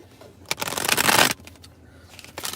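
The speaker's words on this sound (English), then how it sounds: "So I'll shuffle these cards up and get into it." Tarot cards being shuffled for a reading, a dense papery riffle swelling for about a second up close, then fading into softer rustling and a brief flutter near the end.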